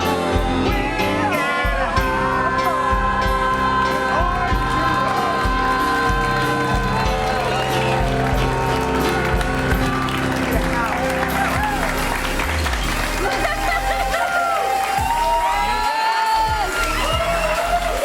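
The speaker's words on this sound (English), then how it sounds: "Give them a big round of applause" An audience at an improv comedy show cheers and applauds loudly and continuously, with whoops and crowd noise layered over music and voices, sustained throughout.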